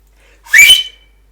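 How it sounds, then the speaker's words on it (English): A single sharp, high whistle, loud and brief, rising then cutting off, with silence before and after. "Suddenly, a whistle rang through the air."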